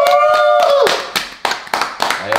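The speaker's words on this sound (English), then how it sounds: "Let me get a clap." A few sharp hand claps from a small group of people indoors, loud and separate, following a voice that cheers over them.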